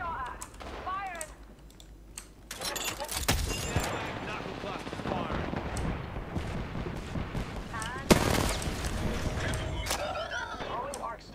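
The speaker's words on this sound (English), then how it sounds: "Being shot at. Firing." Gunfire from the Apex Legends video game: bursts of rapid shots and sharp bangs over a busy battle mix, with keyboard clatter and voices talking throughout.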